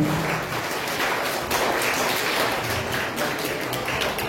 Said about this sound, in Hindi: कृपया तालियां बंद नहीं होनी चाहिए